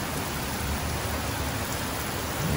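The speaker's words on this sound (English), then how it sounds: "But wow, that's a lot of rain." Heavy rain pours in a dense, steady hiss of drops striking surfaces, unbroken and fairly close throughout the short stretch, no voices.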